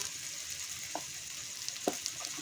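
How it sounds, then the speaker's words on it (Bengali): Ginger-garlic paste with spices frying and being stirred in a pan, a steady close sizzle with two soft scrapes of the spoon, no voices. "এবার আমরা কিছুক্ষণ আরও এইভাবে নাড়াতে থাকবো"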